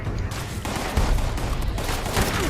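Rapid bursts of gunfire in the video game Fallout 76, a dense crackling volley that keeps going for the whole stretch with a few sharper peaks, with no talking over it.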